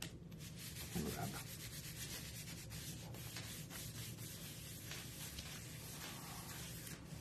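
Rubbing a glued paper card closed makes a faint, steady, close scraping and brushing sound that goes on without a break and with no talk.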